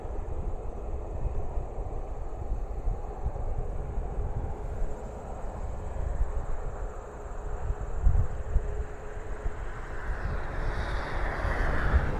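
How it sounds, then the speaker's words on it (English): A WestJet Boeing 737 jet at Toronto Pearson airport makes a continuous engine roar and whine that rises slightly near the end, heard amid wind and distant airport ambience with no talking. "This guy's going to Edmonton here, 737, WestJet."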